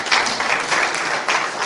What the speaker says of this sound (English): Let's give a round of applause for Lagos State.